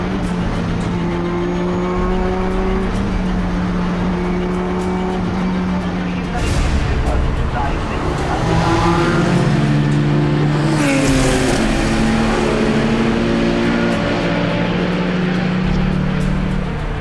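A race car engine drones steadily at high pitch with shifting tones as it changes gear and passes, loud and continuous throughout.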